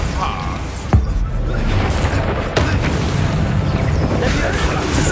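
Bombarda blasting spell going off in Hogwarts Legacy amid combat, two sharp booming impacts over dense rumbling battle noise.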